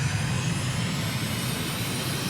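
Aircraft engine held at full throttle in a Microsoft Flight Simulator flight, a loud, steady, dense roar with a low droning hum underneath, continuous and unbroken without any voice.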